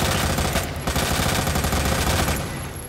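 An LE 5 submachine gun fires at a zombie in Resident Evil 2, a loud, continuous rapid-fire rattle at close range that tapers off near the end, with no talking over it.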